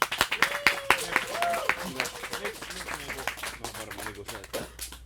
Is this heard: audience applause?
yes